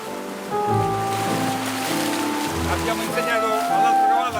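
Sea waves at Tarquinia beach wash and surge in the background while a person speaks over them; the surf rises and falls in broad, rushing swells.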